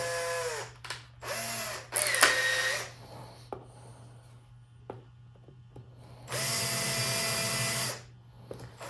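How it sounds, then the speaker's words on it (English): Power drill fitted with a countersinking bit, boring into a shop-built router base, with short whining bursts that rise and fall and a longer steady run near the end, amid a low background hum. "So now I'm going to use the countersinking bit."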